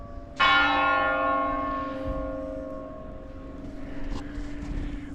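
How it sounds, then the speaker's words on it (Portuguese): The old town hall bell in Brno strikes once for one o'clock, a single loud, ringing stroke heard from close by that hums away slowly over outdoor city ambience. "O sino da prefeitura anunciando aqui 1h"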